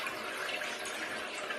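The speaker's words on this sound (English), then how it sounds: "Just going to strain the wine through my muslin that is in a sieve. And that's going to drip through." Homemade elderflower wine drains through muslin set in a sieve, making a steady soft trickling, splashing hiss of liquid, close and even for a moment with no voices.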